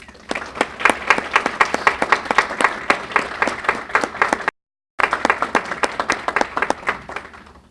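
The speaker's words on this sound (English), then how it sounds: "So I'd like to give all the academic deans a round of applause." Audience applause for academic deans at a university distinguished service award ceremony, steady rhythmic clapping from a crowd with a brief cutout midway, continuing evenly to the end.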